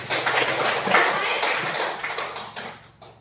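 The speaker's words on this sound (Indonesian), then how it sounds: "Kita tepuk tangan untuk Desi." Students in a classroom clap together for a classmate named Desi, a dense patter of hands that fills the room steadily and then fades out near the end.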